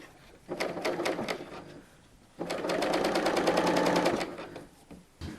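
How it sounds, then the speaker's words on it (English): A sewing machine stitching elastic onto a lingerie slip in two close bursts of rapid mechanical whirring, a short run followed by a pause and then a longer steady run. "We're going to just stretch and sew on our quick sew."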